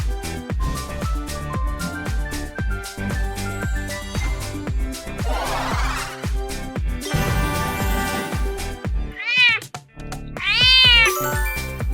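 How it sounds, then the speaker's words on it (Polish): A cat meows a couple of times, drawn-out rising and falling cries, over a bright, bouncy music track. "To jest kot."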